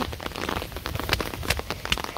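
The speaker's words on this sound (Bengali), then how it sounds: "মানে বৃষ্টি আসে আর যায়, আসে আর যায়।" Steady rain patters on surfaces outdoors in the countryside, a dense, close crackling of drops with small irregular louder splashes throughout.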